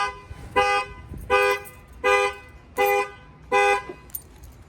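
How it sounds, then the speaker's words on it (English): The factory alarm on a Ford F-250 pickup sounds its horn in five evenly spaced, loud honks with short gaps between them and no other sounds. "I'm gonna go ahead and fire off the alarm"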